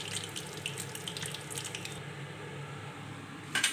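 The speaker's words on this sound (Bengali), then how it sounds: "এভাবে আমি সবকটা বড়া ভেজে নেব।" Pumpkin flower fritters frying in hot oil give off a steady, soft crackling sizzle close by, with a few brighter spatters near the end.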